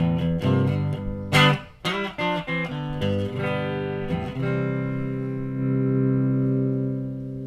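A clean, undistorted electric guitar through a Marshall DL5C amp with a Mesa Boogie V-Twin in the effects loop plays a few plucked notes and chords, then lets a final chord ring out and sustain, close and alone.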